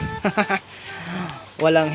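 Goats bleating on a farm, a few short quavering calls near the start and a longer wavering bleat at the end, close and fairly loud with a quiet pause between.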